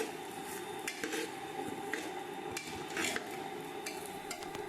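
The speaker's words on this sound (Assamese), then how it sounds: "চাউলখিনি মই ধুনীয়াকৈ ভাজি ল'ম" Rice dry-fried in a pan with salt, cardamom and cinnamon gives faint, irregular scraping and clinking as a metal spatula stirs against the pan, with a soft, quiet background.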